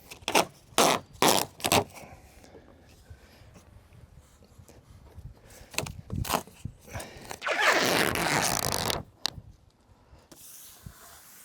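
Tape is pulled off a roll and applied during a DIY deck build, with several quick ripping strips early on, scattered handling noises, and a longer steady tearing pull before a final short rip.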